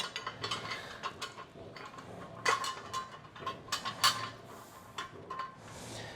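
Quick metallic ratcheting and clinking as nuts are threaded onto bolts of a Nerd Rods DIY frame kit for a 1957 Chevy truck, a busy run of short clicks and taps, close up, with no talking.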